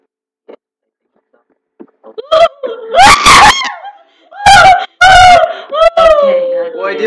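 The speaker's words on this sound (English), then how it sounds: "Why do you keep screaming like a couple of girls who just saw Justin Bieber outside the door?" People shriek and wail loudly in bursts while playing Minecraft, high piercing screams rising and falling over several seconds after a near-silent start, with a laughing edge to some cries.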